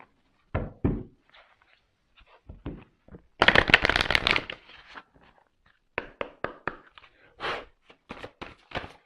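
Tarot cards are shuffled by hand, a burst of dense riffling in the middle framed by scattered taps and soft card handling, close and without talk.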